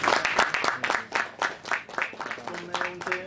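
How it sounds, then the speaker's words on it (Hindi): Applause at a gathering held before the Ram Lalla consecration, a loose irregular run of hand claps under a voice, moderately loud and close. "भरत भाई को के लिए और भाभी सुशीला भाभी के लिए जोरदार तालियां"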